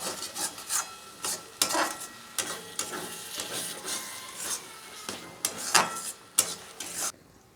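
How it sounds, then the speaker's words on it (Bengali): Spice paste with water being stirred and fried in a pan for chicken with young jackfruit, a rhythmic series of scraping, rasping strokes of a spatula against the pan with soft sizzling between them. "এবার ভালো করে একটা মশলাটাকে কষিয়ে নিতে হবে জল দিয়ে, যতক্ষণ না মশলা থেকে তেল ছাড়ে"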